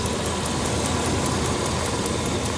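A 5.9 engine in a 2000 Dodge Ram 3500 van runs steadily up close, with a rapid regular ticking or tapping over a dense mechanical drone.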